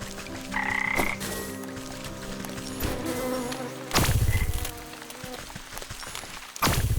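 Swamp frogs in Wytchwood keep up a loud, close croaking chorus mixed with buzzing insects, the din swelling in bursts over a humming ambient music bed.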